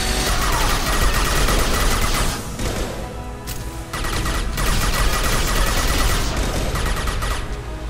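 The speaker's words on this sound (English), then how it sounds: "Firing a lot of missiles, are we, buddy?" Rapid missile fire and explosive gunfire from a gunship battle in the video game Mass Effect 2, a dense, loud, continuous barrage with a brief lull midway before the volleys resume.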